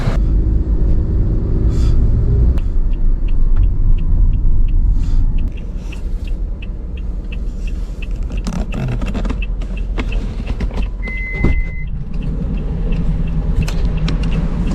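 A Japanese taxi's engine idles with a steady low rumble throughout, close by, joined by faint scraping and small mechanical clicks and a brief higher whine near the end.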